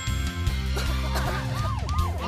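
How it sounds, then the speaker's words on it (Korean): A cartoon police car siren in a children's song wails in rising and falling sweeps over upbeat music, loud and close toward the end. "경찰차가 출동합니다"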